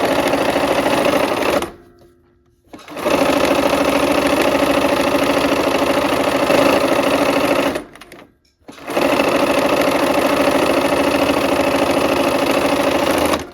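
Close and loud, a sewing machine joins quilt fabric pieces in long continuous runs, with two short stops where the motor goes silent before it starts again.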